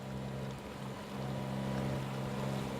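A Freedom 40/40 sailboat underway with its inboard engine at full throttle around 3,000 RPM, a steady low droning hum beneath a wash of water and wind noise.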